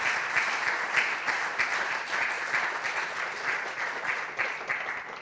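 A conference audience claps together in a sustained, even round of applause, dense and fairly distant, gently fading toward the end.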